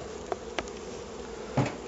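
About a kilo of honeybees are poured into a hive box, giving a steady dense hum of buzzing with a few soft knocks against the wooden box.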